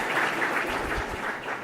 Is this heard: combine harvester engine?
no